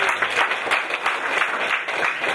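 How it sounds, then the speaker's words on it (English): Brief, lively round of applause from an audience at a company presentation, dense clapping in quick uneven bursts. "Let's give them a round of applause"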